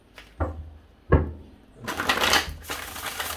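A few soft card taps give way to a riffling shuffle, a papery flutter of cards running together, close and moderately loud with no talking.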